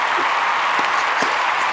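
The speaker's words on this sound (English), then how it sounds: "Everybody give them a resounding round of applause" Steady, dense applause from a group rewards an introduced football player on a draft-special podcast, a continuous even roar of clapping with no talk over it.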